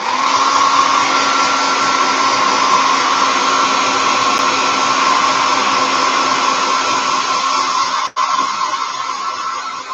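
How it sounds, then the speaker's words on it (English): A hair dryer blows steadily and loudly for about ten seconds, drying primer on a 1/72 Revell Sherman M4A1 model tank, with a brief cut-out near the end before it resumes. "I'm going to use the hair dry to give a quick dry of the primer."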